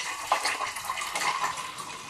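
Antifreeze coolant drains from the cooling system of an Opel Astra G, a steady close splashing trickle of liquid running continuously with no talking.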